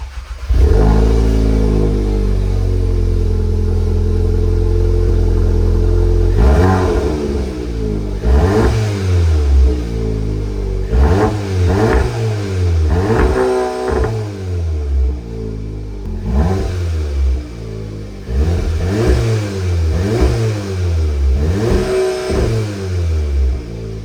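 A car engine cranks and fires up, settling into a throaty idle, then is revved repeatedly in sharp bursts through a deep, rumbling aftermarket Milltek exhaust.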